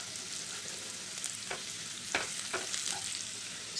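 Green chili, spring onions, beans, carrot and capsicum sautéing in two tablespoons of olive oil for masala noodles, a bright continuous sizzle with a few scraping stirs of a spatula, close and steady.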